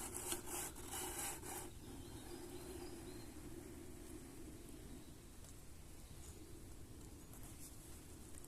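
A Lixada titanium French press plunger is pushed down, giving a soft, gritty scraping rasp for a moment, then a very faint, steady hiss that carries on alone.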